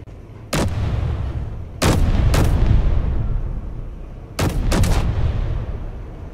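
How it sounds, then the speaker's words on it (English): Turret fire in the space game Space Engineers: sharp, loud broadband shots in clusters, a single crack, then a pair, then another pair and a double, each over a continuous low rumbling background. "Oh, that turret! Just fire really quickly."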